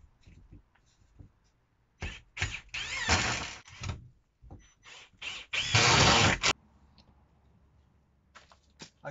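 Power drill driving screws into a polytunnel hanging-basket support, with two loud whirring bursts of a second or more each, close up, surrounded by quieter handling knocks.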